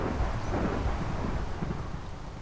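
A video game thunderstorm in Uncharted Territory 3 gives a dense, steady roar of wind and rain with low rumbling, loud and unbroken throughout, with no talking.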